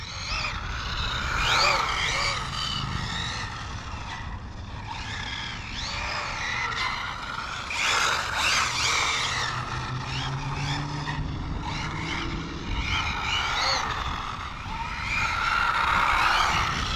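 An Arrma Typhon TLR RC car on street tires skids and whines around a paved surface, its high motor pitch rising and falling through turns with continuous tire scrub, close and fairly loud.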